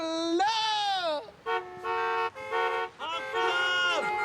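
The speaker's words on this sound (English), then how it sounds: "don't think that's why they're honking" Car horns honk in a street scene, several loud tonal blasts one after another with short gaps, some wavering as they sound together.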